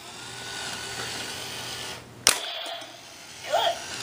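A Nerf target toy bursts out one abrupt electronic gunshot sound midway through quiet background noise, then a short warbling electronic chirp follows.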